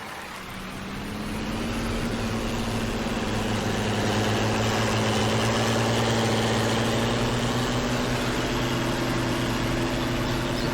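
An old Fiat tractor idles in Farming Simulator 19, a steady low engine drone with a faint rising hum, heard alone and close for several seconds.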